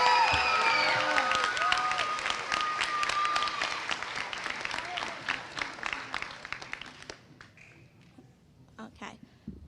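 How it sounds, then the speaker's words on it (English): A crowd at an elementary school moving-up ceremony gives a long, steady round of applause with cheers and whoops over it. The clapping thins toward the end into a few scattered claps. "Everybody, please give them a massive round of applause for all their hard work."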